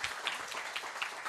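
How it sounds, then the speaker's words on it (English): Brief burst of audience applause at a programming conference talk, a steady dense patter of many hands clapping for just over a second. "round of applause for Cillie"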